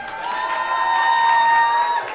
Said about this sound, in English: How about a round of applause for Jason and Anton?